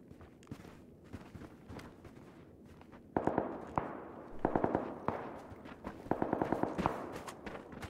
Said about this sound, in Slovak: Ale za nami niekto strieľa.